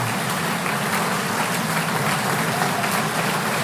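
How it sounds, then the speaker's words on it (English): Steady, dense applause from a legislative audience at the Ohio State of the State address, honoring Braxton Miller; loud, continuous clapping from many hands throughout. "Please give a round of applause to Braxton Miller."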